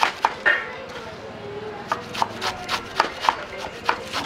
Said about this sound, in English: She's getting ready to make our khao yam right now and just masterfully slicing those herbs.